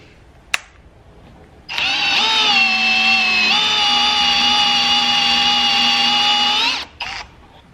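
A power drill bores into a BMW E46 lock adapter, a single sustained whine of about five seconds that starts abruptly, holds a steady pitch with a slight dip partway through, then stops. A brief click comes before it.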